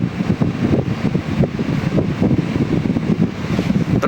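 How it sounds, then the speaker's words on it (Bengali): A Haier inverter air conditioner running its fan on turbo mode, a loud, steady rushing whoosh of moving air with a low rumble, continuous and close. "এই হচ্ছে টার্বো দিলাম টার্বো দিলে আরও দ্রুত গতিতে শব্দ হবে"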